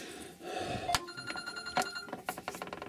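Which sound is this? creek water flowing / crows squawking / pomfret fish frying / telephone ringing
telephone ringing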